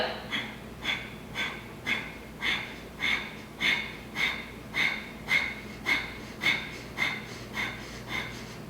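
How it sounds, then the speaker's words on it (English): Rapid, rhythmic breathing during a yoga core exercise that pumps the abdominal wall, with about fourteen short, forceful puffs at a steady pace, close and moderately loud, and no talking. "Long exhale through the mouth."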